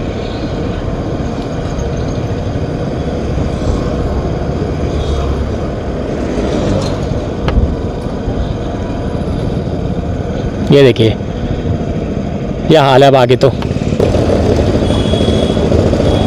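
Motorcycle engine running steadily while riding into Haldwani, a low rumbling drone under a rider's talk, with passing traffic noise and a couple of sharp horn-like bursts near the end.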